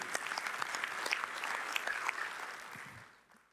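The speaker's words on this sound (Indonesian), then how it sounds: "Yang percaya kasih tepuk tangan yang paling meriah." A church congregation at a Sunday worship service claps together, fairly soft and distant. The applause holds steady for a few seconds, then tapers off and fades near the end.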